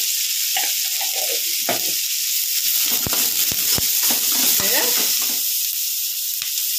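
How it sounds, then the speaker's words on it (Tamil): Onions and curry leaves sauté in a hot oiled pan for a dry peas masala, a steady loud sizzle with crackles and intermittent scraping stirs throughout, no voices. "வெங்காயம் வதங்கிறதுக்கு கொஞ்சமா நீங்க உப்பு சேர்த்து வதக்கிக்கோங்க, உங்களுக்கு டக்குனு வதங்கிடும்."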